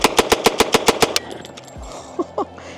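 AK rifle fired in a rapid burst of about eight loud, evenly spaced shots over roughly a second, followed by ringing echo and faint distant sounds outdoors.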